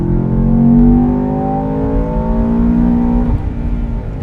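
A Land Rover Defender OCTA engine revs up loudly and steadily, its rising tone dropping as the gearbox shifts up automatically near the end.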